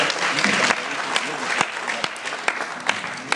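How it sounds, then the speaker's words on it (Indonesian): Seated attendees at an IT cloud services associate meeting break into steady applause, a dense wash of clapping with a few sharper individual claps standing out, and a voice runs faintly beneath it. "Tepuk tangan buat Top Fusion Bapak Ibu ya."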